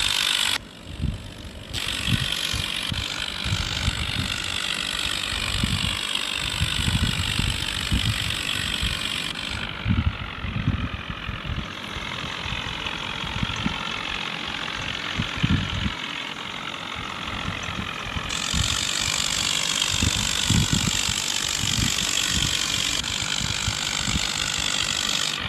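A Swaraj tractor engine straining up a steep climb in a video game: a continuous chugging, rattling drone with repeated knocking pulses, heard close for nearly half a minute with no talking.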